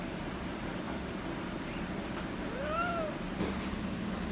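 A disabled, partially paralyzed rescued cat gives a single rising-and-falling meow, fairly faint against steady background hum.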